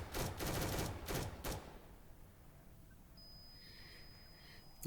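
An SMG firing in a Roblox zombies video game, a rapid burst of several loud, closely spaced shots over the first second and a half, followed by a quiet tail with a faint high tone.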